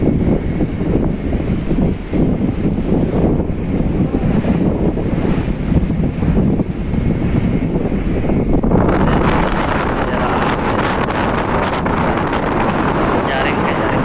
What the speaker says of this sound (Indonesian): Jadi lihat ombaknya tinggi. Kapal segede kita aja dihantam ombak.